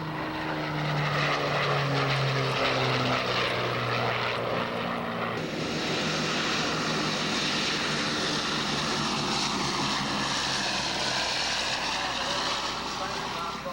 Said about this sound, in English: These airplanes were on display, on the ground and in the air, at the 1989 Wings of Eagles Air Show